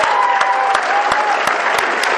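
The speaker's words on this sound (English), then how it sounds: "Let's give another round of applause for our speaker and our celebrant." Warm, steady applause rises from the audience at an AA meeting for a speaker and celebrant, close and loud, a dense continuous patter with a few sharper individual claps standing out.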